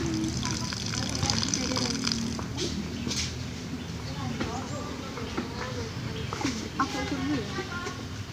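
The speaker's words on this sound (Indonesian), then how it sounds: "Kita akan buka keran sebentar untuk melihat perbedaan ketinggiannya." Water gushes from an opened tap in a venturi meter experiment, a steady rushing flow heard under a person talking throughout.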